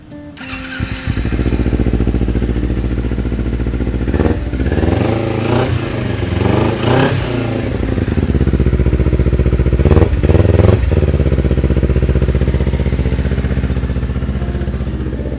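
A 2009 Kawasaki Ninja 250 motorcycle engine starts and idles up close, a loud continuous rumble with a few brief throttle blips, no talking.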